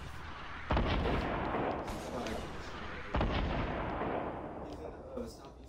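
Gunfire in the Fortnite video game, two heavy booming shots landing a few seconds apart, loud and close, each trailing into a rumbling decay over steady game noise and faint background chatter.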